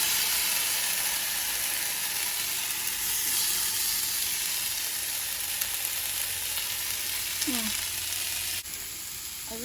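Mushrooms frying in hot oil in a Ridge Monkey sandwich pan, giving a steady close sizzle and crackle that runs throughout, with a brief metallic clatter near the end.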